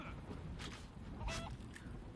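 A chicken in the video game Divinity Original Sin 2 gives a few short, faint squawking calls in brief bursts over a low ambient background.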